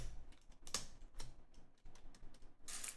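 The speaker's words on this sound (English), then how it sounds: "cleaning coffee from keyboard ASMR." A computer keyboard being cleaned of spilled coffee: sparse, close plastic clicks and taps of keys in an irregular rhythm, with no talk.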